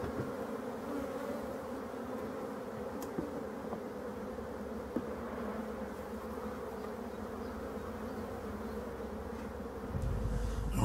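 Honeybees buzz steadily around an opened hive frame during an early spring inspection, a dense, continuous drone close by that holds level throughout, with a low rumble swelling near the end.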